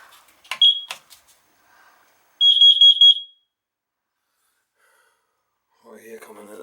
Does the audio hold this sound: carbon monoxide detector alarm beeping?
yes